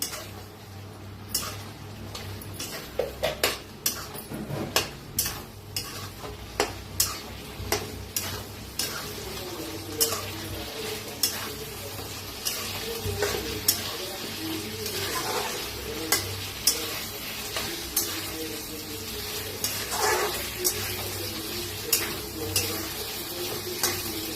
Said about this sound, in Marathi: तर एकदम मिक्स करून घेऊया